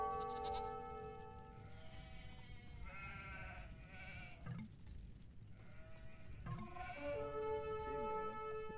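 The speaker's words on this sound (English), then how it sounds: "Oh, this is actually a goat." Goats bleat in the strategy game Age of Empires 2, a few wavering, nasal calls rising over a soft, steady game ambience, quiet and close.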